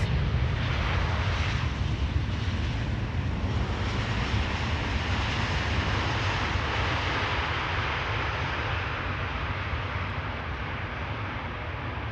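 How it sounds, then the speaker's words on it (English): KLM Boeing 777-200 arriving at Amsterdam Schiphol Airport, a broad, steady jet-engine roar that stays loud and continuous, easing slightly as it fades. "This is KLM flight 696 arriving from Toronto."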